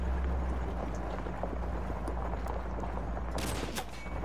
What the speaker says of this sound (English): We're taking sniper fire from multiple directions.